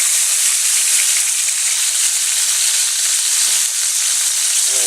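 Hamburger patties frying in a hot pan, a loud, continuous crackling sizzle with a few small pops and spatters near the end, close up with no talking.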